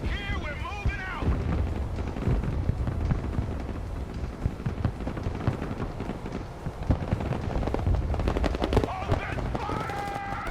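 Bursts of war-movie gunfire crackle and rattle in dense volleys under shouted voices and a swelling score, loud and continuous throughout.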